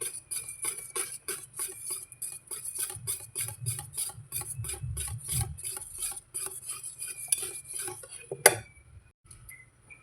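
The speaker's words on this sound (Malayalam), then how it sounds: "ഇനി ഇത് നമുക്ക് നന്നായിട്ട് ബീറ്റ് ചെയ്തെടുക്കാം." A whisk or beater works cheesecake batter in a bowl for a burnt Basque cheesecake, a rapid rhythmic scraping and clinking that runs for several seconds, then ends with a sharp knock before falling quiet.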